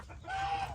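Brahma chickens give a brief, single cluck close by, short and clear with no talking.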